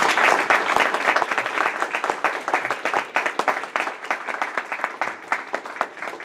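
Audience at a presentation breaking into applause, dense rapid clapping from many hands that holds steady and then thins out slightly toward the end, fairly loud, no voices.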